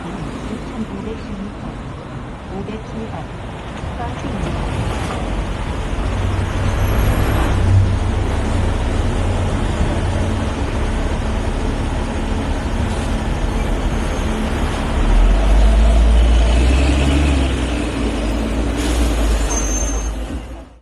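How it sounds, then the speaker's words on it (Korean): A city bus passes along a road lined with pin oak street trees near a courthouse complex, a loud rumbling engine and traffic noise with brushing sounds against its side, while a person talks over it. "버스가 지나가면 그 가로수가 버스 옆면을 다다다다 치고 있습니다"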